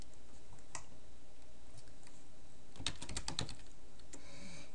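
A name being typed on a computer keyboard, a quick close burst of key clicks after a few scattered taps, then one last keystroke.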